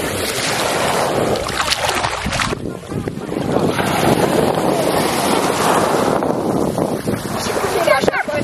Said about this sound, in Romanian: Eu conduc șalupa.